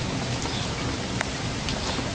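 Heavy rain pouring down outdoors, a dense, loud, unbroken hiss of falling water with a few sharper drips standing out, no voices.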